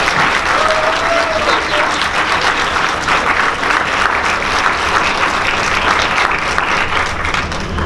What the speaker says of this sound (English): Please give them everyone a big round of applause.